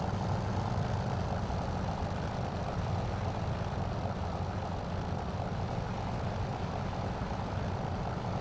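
A P-40F Warhawk fighter's piston engine powering up on the runway in Microsoft Flight Simulator, a loud continuous propeller roar and rumble that holds steady throughout with no talking.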